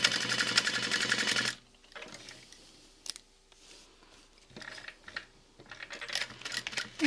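Close, busy chatter from a sewing machine topstitching a fabric clutch wallet opens the sequence, then stops, leaving soft handling and brief bursts of stitching later on.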